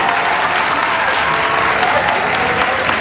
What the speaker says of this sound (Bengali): Come on, put your hands together for Sensation.